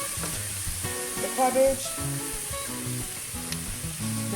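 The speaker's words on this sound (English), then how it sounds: "this has been sauteing for a while" Vegetables sauté in a pan with a soft, continuous sizzle heard close up under background music.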